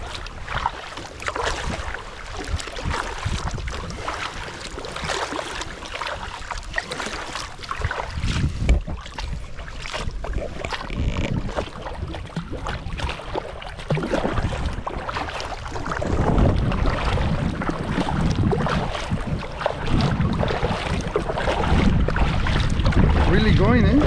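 An inflatable GoPlus kayak crosses a windy lake, with gusting wind buffeting the microphone over splashing water and paddle strokes, loud and uneven throughout, while people talk at times.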